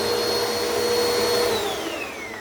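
A Bissell Power Force Helix 2191U upright vacuum cleaner running loud and close, with a steady motor whine and airflow roar whose pitch drops slightly toward the end.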